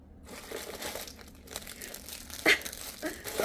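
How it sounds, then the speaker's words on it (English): Bubble wrap being unwrapped from a birthday gift, close and continuous crinkling and rustling of plastic with a few sharper crackles and handling noises. "Bubble wrap."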